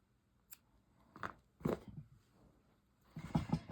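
Scissors snipping a yarn tail on a knitting project, heard as a few close, quiet crunchy cuts separated by pauses, with no talking.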